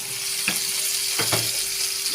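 Diced potato cubes sizzling in a pan with lightly sautéed garlic, a steady close frying hiss with a few brief clatters as the pieces are stirred.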